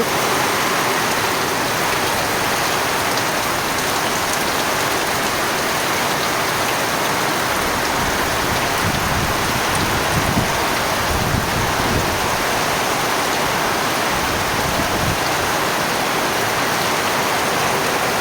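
Heavy rain pours steadily and loudly throughout, a dense constant wash with occasional heavier spatters.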